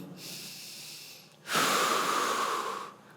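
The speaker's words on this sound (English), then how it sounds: "put your hand on your heart, take a deep breath in" A deep breath drawn in through the nose, a soft airy intake followed by a louder, sustained rushing inhale of about a second and a half, close and clear with no talk.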